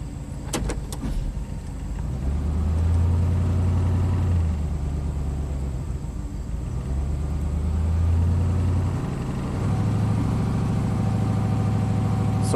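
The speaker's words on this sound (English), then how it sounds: "Still got that misfire." The engine of a 1998 Chevy K2500 idles with a misfire, a rough, uneven rumble that swells and dips in loudness. A few sharp clicks sound near the start.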